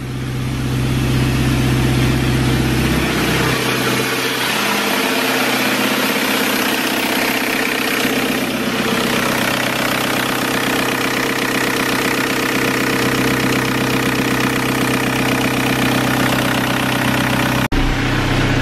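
A Toyota fitted with a swapped TDI diesel engine idles steadily and loudly nearby, a constant low rumble that shifts slightly after a few seconds and then settles, with no talking.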